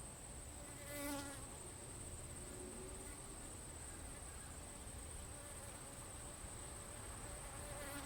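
Honeybees buzzing steadily nearby at a beehive, a constant droning hum with one louder pass close by early on, and no talking.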